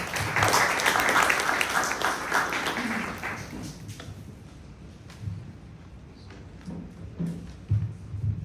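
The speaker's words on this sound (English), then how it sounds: "Let's give him a round of applause as he comes up." Audience at a fintech event clapping as a speaker walks up: a thick burst of applause that fades over about four seconds, followed by footsteps and light thumps in a quieter room.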